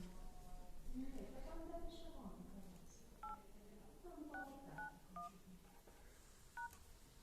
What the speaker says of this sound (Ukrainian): заходимо в програму телефон і вводимо команду